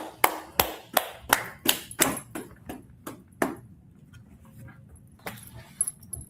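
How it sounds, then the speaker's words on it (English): Scattered hand claps applauding a class, about ten sharp, separate claps in quick succession that thin out into a few sporadic claps. They sound near and crisp, with quiet gaps between them. "Clap it up for an excellent class."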